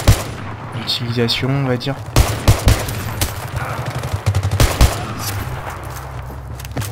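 SV98 sniper rifle shots in a video game, several sharp loud cracks spread across the clip amid other gunfire and game effects, with someone talking in French over them.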